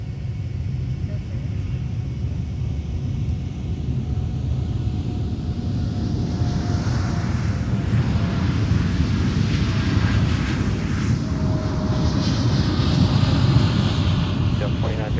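A jet airliner fitted with Rolls-Royce engines rumbles steadily at MSP airport, a loud, sustained roar with a rising whine that builds over time, heard with radio chatter in the background.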